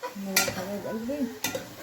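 Lamb and onions frying together in a pot: a close stir with a scrape of the spoon and soft sizzling underneath, two sharp clanks of utensil on metal, a humming voice over the top.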